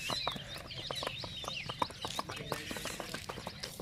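A mare trots along outdoors, her hooves sounding a steady, quick clip-clop at moderate distance, with roosters and birds calling in the background throughout.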